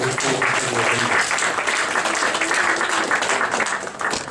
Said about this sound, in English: I request all of you to give a big round of applause.